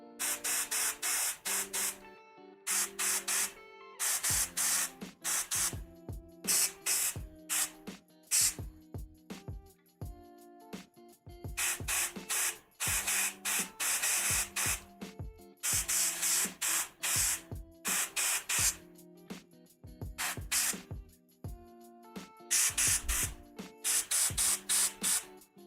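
An airbrush sprays paint onto a Warhammer 40k Avatar of Khaine miniature in repeated loud hissing bursts of varying length, separated by short pauses, with no talking.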